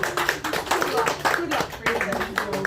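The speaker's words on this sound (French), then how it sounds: "On peut applaudir." A conference audience at a Superstar Wrestling press event breaks into a short burst of clapping, uneven and fairly close, with someone talking over the hands.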